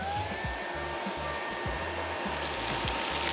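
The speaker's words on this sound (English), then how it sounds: "it's time to deploy the vac" A handheld vacuum cleaner in a Toyota Sienna sucks up spilled Frosted Flakes, a steady high whine with rattling, crunching pickups of cereal pieces beneath it, close and continuous throughout.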